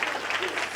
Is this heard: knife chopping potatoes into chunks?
no